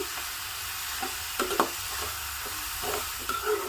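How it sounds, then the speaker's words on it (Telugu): Green chillies and onion pieces fry in a pan with a steady hiss and sizzle, broken by a few louder crackles and spatters, close up and with no talking. "పచ్చిమిరపకాయలు ఉల్లిపాయ ముక్కలు కూడా గోల్డెన్ బ్రౌన్ కలర్లోకి వేగాలండి బాగా"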